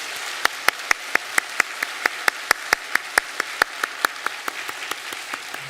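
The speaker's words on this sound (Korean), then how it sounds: "우리 박수로 격려하겠습니다" Korean church congregation applauding during a Sunday service, a run of sharp, regularly timed claps over a bed of scattered clapping that quickens slightly and then tapers off softer toward the end.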